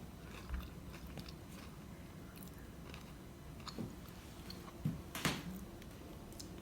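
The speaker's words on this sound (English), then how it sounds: "You can hear the crunch." Close, crisp bites into a crunchy fried jalapeno and cheese samosa, a few sharp crunches followed by soft chewing.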